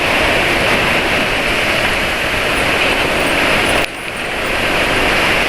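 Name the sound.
strong wind blowing outdoors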